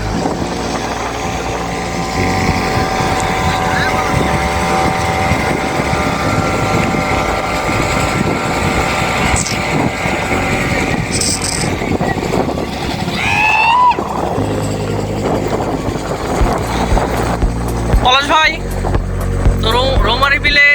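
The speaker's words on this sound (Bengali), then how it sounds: "একটি স্পিড বোট খুবই স্পিডে ছুটে যাচ্ছে" A speedboat races past on a lake, its engine droning steadily and loudly with wind buffeting the microphone, while smaller trawlers are also on the water.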